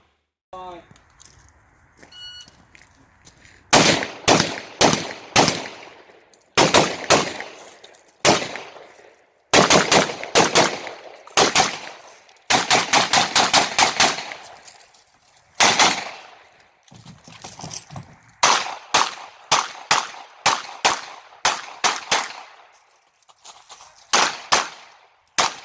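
An M90 5.56 AK rifle fires in a shooting competition: loud, close strings of rapid shots come in quick bursts, separated by short pauses for movement and reloading, with a voice briefly heard early on.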